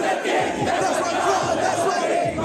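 A large concert crowd in India roars and cheers for the performer, a dense, loud wash of shouting voices that carries on without a break.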